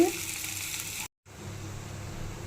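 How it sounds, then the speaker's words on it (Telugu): Loud, steady sizzling of spices frying in hot oil as a tempering for gongura dal, briefly cut off by a moment of silence, then resuming at a slightly lower level. "ఇప్పుడు పోపు పెడుతున్నాను"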